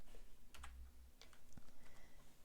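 Computer keyboard keys pressed during 3D modelling software work, a few sharp, close clicks scattered over a couple of seconds with a soft low thump and faint background hiss.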